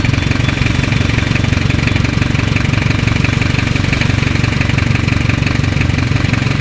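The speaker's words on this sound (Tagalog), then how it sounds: "RF engine, Mazda RF" A Mazda RF diesel engine with heavy blow-by and leaks runs at a steady idle close by, a loud, even, rough rumble with rapid knocking pulses and no talk.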